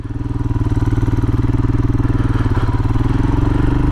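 A Royal Enfield Himalayan motorcycle engine runs steadily and close by, a loud low throbbing putter with even rapid firing pulses and no talk.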